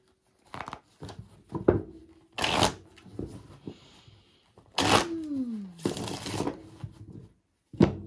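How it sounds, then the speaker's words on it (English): A tarot card deck is shuffled close up in several separate bursts of riffling and sliding cards, with short pauses between them and a few soft taps and knocks. "I just shuffled. Let me shuffle again."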